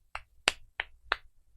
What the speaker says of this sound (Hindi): तालियां बजाएंगे तुम्हारे लिए